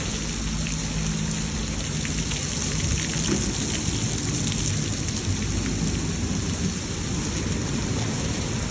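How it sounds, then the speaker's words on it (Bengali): Heavy rain in Singapore pours steadily and loudly with a constant dense wash, while low thunder rumbles underneath throughout, no voices. "আজকেও দেখতেছি যে প্রচুর বৃষ্টি"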